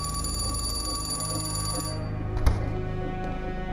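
A telephone rings in a film scene, a loud, sustained electronic trill that stops about halfway through, followed by a single sharp knock and a low background hum.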